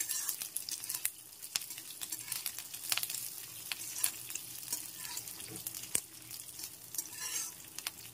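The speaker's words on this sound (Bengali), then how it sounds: "সবকিছু একসাথে খুব ভালোভাবে ভেজে নিচ্ছি আরো একবার।" Curry leaves and raisins frying together in a pan give a continuous crisp sizzle broken by sharp scraping stirs and clicks. It is close-up and fairly quiet, with no voices.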